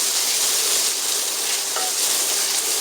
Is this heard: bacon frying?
yes